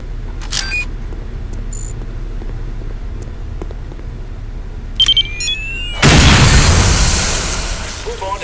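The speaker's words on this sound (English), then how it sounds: "Once a radio bomb is planted, take cover and press your fire key to detonate the bomb." A radio bomb detonates in Counter-Strike Condition Zero: a sudden loud blast crashes in after a stretch of low game ambience and small clicks. The broad roar holds and then slowly fades.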